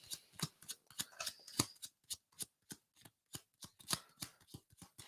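Tarot cards shuffled by hand in a fast series of crisp riffling flicks and soft slaps, close and fairly quiet, with no talk over them.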